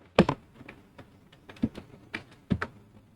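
Typing a document in MS Word on a computer keyboard: sparse, uneven keystrokes, a few sharp louder taps among softer clicks, close and quiet with pauses between them.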